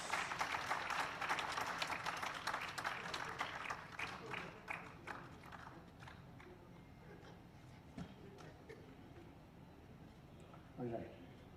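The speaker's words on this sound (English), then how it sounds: "Claps." An audience at a golden jubilee celebration claps, loud and full at first, then thinning into scattered individual claps that fade away, with a voice speaking briefly near the end.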